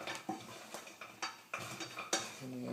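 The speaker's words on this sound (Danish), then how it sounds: "Jeg har altså stadigvæk løftet gryden her nu op fra blusset." A pot of caramelized sugared almonds with licorice is lifted from a stove burner, giving a series of sharp metallic clanks and scrapes of cookware, spaced irregularly and fairly close, with no voices.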